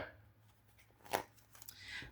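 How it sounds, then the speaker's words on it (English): Tarot cards are shuffled by hand in a quiet room, giving a soft riffling burst in the middle followed by lighter flicks of the deck, fairly close and faint, with no talking over it. "let's go ahead and give the cards 3 more shuffles here"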